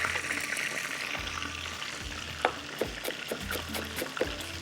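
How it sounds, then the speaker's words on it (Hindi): Green chillies and finely chopped ginger fry in hot oil for Nargisi koftay, giving a steady close sizzle with a few soft stirring clicks and scrapes and no voices. "बस ये हरी मिर्चें हम इसमें डालेंगे, थोड़ी सी अदरक बारीक कटी हुई, जब तक ये आराम से फ्राई होने जा रहे हैं।"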